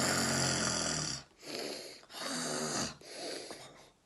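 A narrator imitates snoring with the voice: three long, rasping snore breaths separated by brief pauses, close and fairly loud, with no words spoken.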